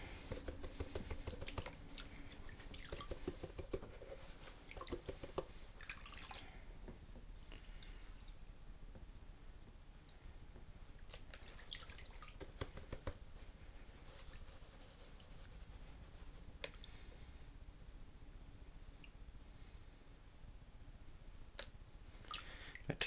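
Gold paydirt from an eBay seller, Arizona material, agitated by hand in water, giving a steady close wet patter of shifting gravel and sloshing with scattered small clicks throughout, no voices.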